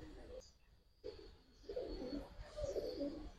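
Faint, muffled cooing from pigeons at a market selling Giribaz, Lal Patti and colored breeds, a soft low murmur rising toward the end with a voice nearby.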